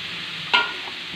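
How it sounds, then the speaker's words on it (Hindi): Pressure-cooked mixed dal for dal dhokli is added to a pot with one short, wet slosh, then stirred, over a faint steady background hiss. "अब इसमें जाएगी हमारी गली हुई दाल जो पक गई है कुकर में"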